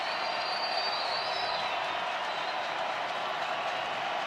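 Dense, steady roar from a college football crowd at the Solaris Center during North Dakota State at North Dakota, a continuous wash of cheering and noise with no break across the whole stretch.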